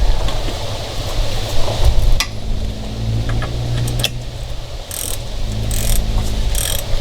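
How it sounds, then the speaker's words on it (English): A torque wrench ratchets and clicks while tightening a bolt on a two-stroke Mercury Optimax outboard during winterizing, close metallic ratcheting and a few sharp clicks over a steady mechanical background, no speech. "I've got a torque wrench and it's set for 50 pounds"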